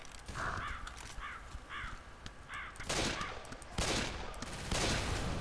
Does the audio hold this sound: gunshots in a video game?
yes